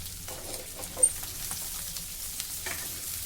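Potato fry being stirred in a pan, a soft steady sizzle with scattered scraping stirs and one sharper clink, close and fairly quiet, no voices.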